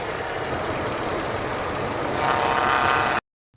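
Car engine idling in good condition, its viscous-coupling cooling fan spinning at engine speed and pushing air through the radiator, a steady close whooshing hum that swells louder near the end before cutting off abruptly.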